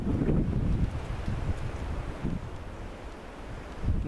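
Wind blowing through a mixed woodland of Douglas fir, oak, Norway spruce and Scots pine with fallen trees, a rough steady rushing with gusts buffeting the microphone.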